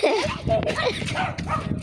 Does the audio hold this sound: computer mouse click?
no